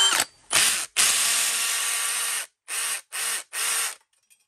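A Ridgid R86116 brushless cordless drill switched to screwdriver mode whirs in loud bursts: two short runs, then a long continuous spin, followed by three more brief triggers with gaps of silence between them.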